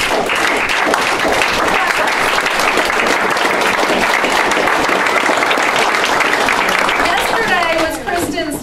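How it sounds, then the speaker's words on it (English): A real estate company audience gives a big, sustained round of applause, dense clapping with cheering voices mixed in that stays loud and steady before tapering off near the end. "That deserves a really big applause."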